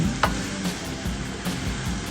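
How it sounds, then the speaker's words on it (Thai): Green curry paste and winter melon pieces stir-frying in a pan, a steady sizzle broken by several scraping stirs of the spatula, close and alone. "ผัดให้พริกแกงเคลือบทั่ว ฟักของเราเลยนะคะ"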